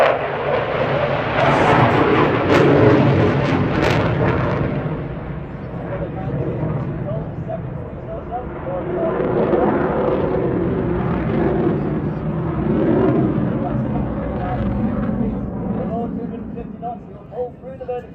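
A Eurofighter Typhoon jet performing at the Blackpool air show in 2022, its broad engine roar rising and falling as it maneuvers, loud and sustained, with a public address commentator talking over it.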